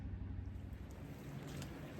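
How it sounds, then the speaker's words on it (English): Steady wind buffeting outdoors, a continuous low roar and rumble against the microphone with no other clear sounds. "Sorry about that wind."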